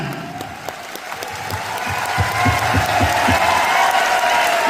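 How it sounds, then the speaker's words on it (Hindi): Clapping from a crowd at an Indian corporate event builds to a steady, loud round of applause, with a few voices murmuring underneath. "ऐसे शख्सियत के लिए जोरदार तालियां होनी चाहिए।"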